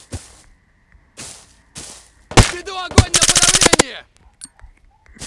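Rapid bursts of automatic gunfire in a video game shooter, several sharp shots followed by a dense, loud rattling volley, with quieter bursts before and after.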